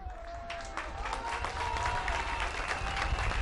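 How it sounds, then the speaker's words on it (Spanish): A crowd at a road inauguration in Santo Domingo Xagacía, Oaxaca, applauds the outgoing municipal president with dense, sustained clapping that builds slightly in loudness, and a voice speaks briefly at the start. "te vamos a dar un aplauso a ti también"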